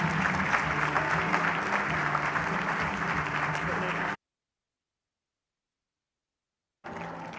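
An audience at a closing keynote applauds as General Ray is welcomed onstage: dense, steady clapping from a large crowd for about four seconds, then a cut to silence before the applause briefly returns.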